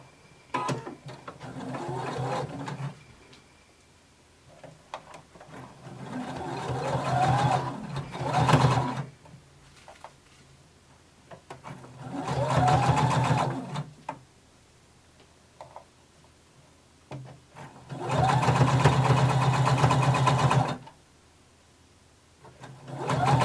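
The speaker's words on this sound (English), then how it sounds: "And we're going to sew close to the edge." A home sewing machine stitches close to the edge of folded fabric in four separate runs, each a rapid mechanical whir that speeds up and slows down, with quiet pauses between.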